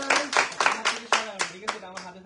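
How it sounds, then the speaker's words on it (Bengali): Several people clapping for a bike giveaway winner, a short burst of about eight uneven hand claps close by, with a voice talking underneath. "সবাই হাততালি দাও"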